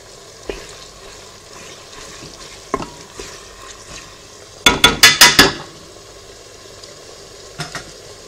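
Beef kidneys browning in a Cookeo pot sizzle quietly under a few sharp utensil knocks, then a quick burst of five loud scraping strokes midway and two softer taps near the end.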